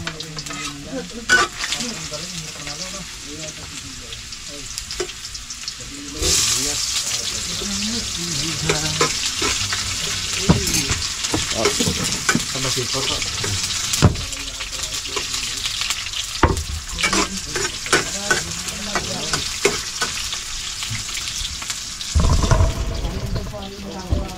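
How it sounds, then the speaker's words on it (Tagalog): Corned beef cooks in a pan with garlic and chayote, sizzling and frying steadily while a utensil stirs and scrapes, with splashes of water and a person talking intermittently nearby. "Luto tayo ng corned beef."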